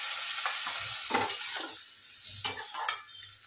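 Flat beans (shim) frying in a pan with water just added, giving a close, steady sizzle with clinks of stirring utensils against the pan in irregular bursts.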